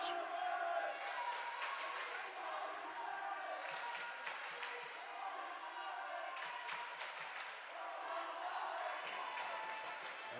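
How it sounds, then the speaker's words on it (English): Gym crowd at a women's college volleyball match between Brooklyn College and Rutgers-Newark, a continuous hum of cheering, clapping and shouting with sharp bursts of claps and stomps, fairly distant and steady. "the crowd is getting hyped"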